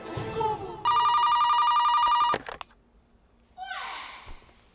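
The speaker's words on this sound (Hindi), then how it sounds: "नीना जी को फोन लगा।" An electronic telephone ring sounds in one long steady burst after a moment of voice, followed by a brief clatter and then other vocal sounds.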